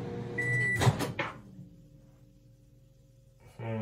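A microwave oven heating eggs and nachos, with a door clunk, then a soft steady hum running alone before another clatter at the end.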